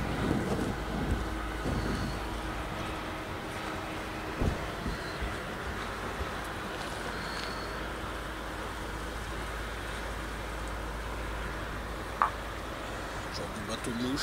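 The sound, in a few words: small boat passing on the water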